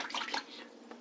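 Water poured by hand into a Sears Kenmore dishwasher for a drain test, a brief close splashing gush that fades into a softer trickle.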